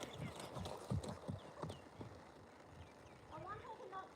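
Pony cantering during an afternoon ride, hooves clip-clopping in a steady rolling rhythm close by, with a rider talking over the hoofbeats.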